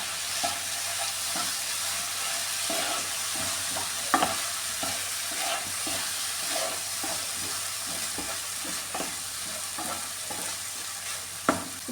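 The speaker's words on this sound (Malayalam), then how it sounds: "ഒന്ന് ഇളക്കി കൊടുക്കാം" Tuna fish curry cooks without added water in a pan while a spoon stirs it. Steady close sizzling runs under repeated scraping and clinking strokes, with a sharper knock near the middle and another near the end, and no one talks.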